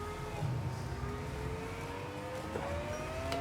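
An X17 Formula car laps Silverstone in the RaceRoom racing sim, its engine a steady high whine that climbs in pitch as it accelerates, moderately loud and continuous with faint talk over it.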